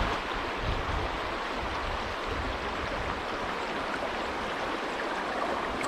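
River water rushes through a gold prospecting sluice in Scotland, a steady broadband roar that runs evenly and unbroken from start to finish with no voices.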